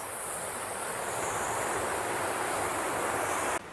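Water pours steadily at Vaikara waterfalls, a dense, loud, unbroken rushing roar close by that drops off abruptly near the end.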